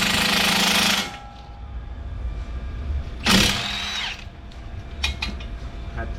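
An impact gun hammers at rusty brake caliper bolts on a Toyota Corolla, a loud rattling burst at the start and a second shorter burst a few seconds later, with clinks and workshop noise between.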